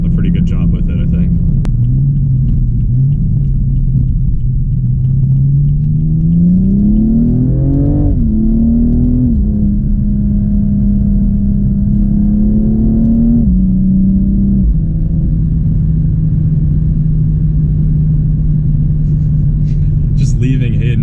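A 2015 BMW M235i with a very quick transmission pulls away hard from a standstill, its loud engine rumble climbing in pitch through several gear changes and then settling into a steady drone.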